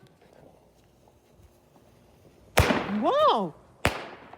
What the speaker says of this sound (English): What a good explosion.